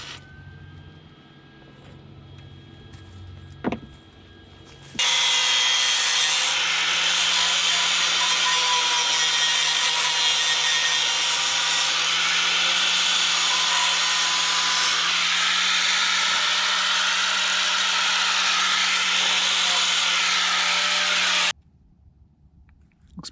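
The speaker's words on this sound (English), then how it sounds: "I'm going to get this metal cleaned up" Power tool grinds steady and loud for about sixteen seconds while cleaning up metal on a Honda motorcycle conversion, with quieter workshop moments before and after.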